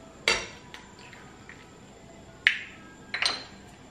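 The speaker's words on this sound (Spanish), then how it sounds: "Vamos a mezclar muy bien." A utensil clinks against a bowl while plantain fritter batter with egg is mixed, giving a few sharp, quiet clinks spread apart with soft scraping between.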